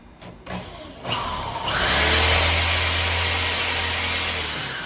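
A power drill whirs up to a loud, steady grinding spin, boring into pallet wood close by for several seconds after a brief start.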